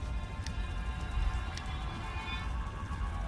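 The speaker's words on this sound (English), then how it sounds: "You hear the sound of rain around you." Steady rain sound effect in a fantasy text adventure game, a continuous hiss of falling drops with a few sharper droplet ticks, moderately quiet and alone.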